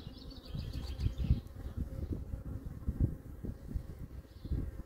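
Honeybees buzzing close by at the hive during beekeeping work against varroa mites, a steady droning hum that swells and fades as bees pass near, with no talking.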